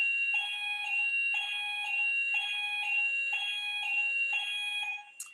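An office fire alarm sounds a steady run of loud, high-pitched electronic beeps with a bright tone, pulsing about once per second for several seconds before cutting off abruptly.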